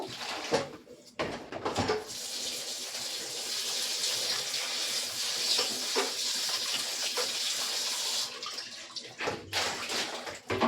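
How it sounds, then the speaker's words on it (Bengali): Washing water draining off taro stolons (kochur loti) in a strainer, a steady splashing pour of water running for several seconds, framed by brief clatters at the start and end. "ভালো করে এরকম করে ছেঁকে নেব, আর জলটা ফেলে দেবো"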